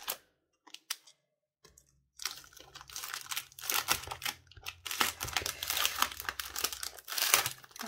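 Crinkly plastic packaging of a Simple Story scrapbooking paper collection being opened, with a few sparse crackles followed by several seconds of dense, close, continuous crumpling and tearing.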